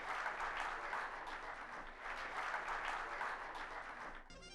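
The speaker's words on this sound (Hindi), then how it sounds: "जोरदार तालियां" Loud, dense applause fills an award ceremony hall for the Dhanwantri Doctor Award 2015, holding steady for several seconds before cutting off abruptly near the end.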